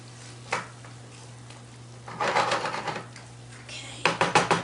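Beans frying with onions and tomato in a large pan, with quiet intermittent sizzling bursts as the mixture is stirred and a sharper crackle near the end.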